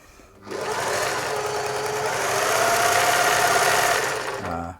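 Singer 631G/611G sewing machine running a special cam stitch, starting after a brief pause and then whirring steadily and loudly at an even speed for several seconds before winding down.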